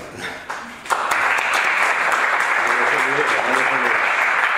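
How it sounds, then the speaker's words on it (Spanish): An audience breaks into sustained applause for a speaker at a talk, starting after a brief moment of talk and holding a dense, even wash of clapping to the end. "Pues un aplauso para él"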